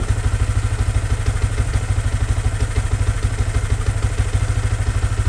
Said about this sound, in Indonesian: RPM nya naik ya kan, sedikit.